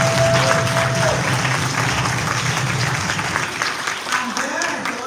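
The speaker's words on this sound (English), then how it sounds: "another long big applause." A congregation applauds at length during a Garifuna Settlement Day mass in Los Angeles, a steady dense wash of clapping filling the church, with a brief tone and some voices mixed in underneath.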